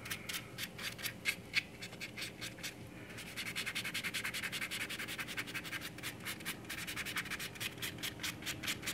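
A sanding stick rubs filler putty on a 1/6 scale vinyl model kit in steady, rapid back-and-forth strokes, close and fairly quiet, continuing without pause.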